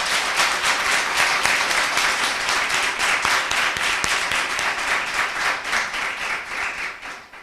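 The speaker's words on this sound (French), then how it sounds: "S'il vous plaît, applaudissez pour Canal 3." Dense, sustained applause from an audience at a jury presentation event for a business academy, a thick wash of many hands clapping for the full length without talk, fading slightly toward the end.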